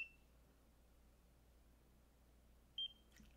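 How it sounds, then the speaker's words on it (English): A Nira Pro laser device gives a short, faint electronic beep near the end of a quiet stretch of low room hum, with a trace of an earlier tone at the very start. "There's that second beep."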